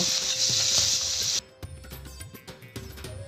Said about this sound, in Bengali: তেল তো গরম হয়ে গেছে এবার চিংড়ি মাছগুলোকে হালকা করে ভেজে তুলে নেব